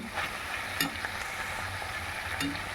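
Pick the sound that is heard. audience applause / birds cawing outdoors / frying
frying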